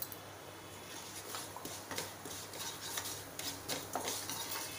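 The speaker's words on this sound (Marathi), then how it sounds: "आता आपण ही कलवंजी घालून घेऊया." Nigella seeds are stirred into hot oil in a pan with cumin, bringing repeated light scraping and clinking of a spoon over a faint background hiss, quiet and close.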